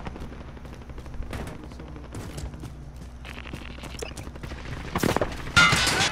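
Gunfire in a video game match of Plunder, scattered shots and bursts of automatic fire at varying distances, building to loud close volleys near the end.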